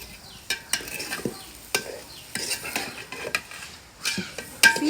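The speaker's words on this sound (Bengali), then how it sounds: "সিমটাকে কষিয়ে নিচ্ছি।" Beans are sautéed in a pot on a wood-fired stove, with a soft, ongoing sizzle under repeated sharp scrapes and clinks of a spoon against the metal, close by and uneven in rhythm.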